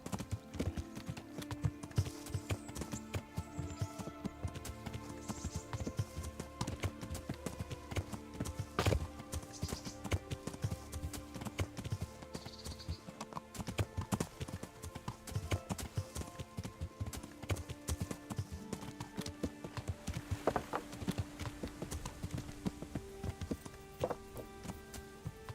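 Horse hooves clip-clop steadily in Kingdom Come: Deliverance as a rider travels toward a miller, a continuous close rhythmic trot over game ambience with no talking.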